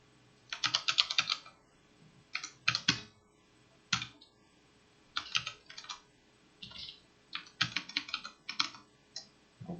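Someone types NumPy code on a computer keyboard in short bursts of quick clicks. The keys are close and clear, with gaps between runs and the odd heavier key press.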